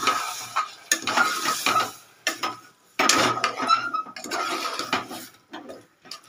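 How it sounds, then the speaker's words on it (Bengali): Spices and boiled peas are stirred and sautéed in a pressure cooker for an onion-garlic ghugni, making close, repeated bursts of metal scraping with a soft sizzle between strokes and no talking. "এবার ভালো করে কষিয়ে নেব।"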